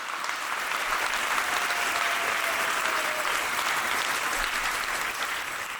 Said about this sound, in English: Let's give them a round of applause for being the shining example for you to follow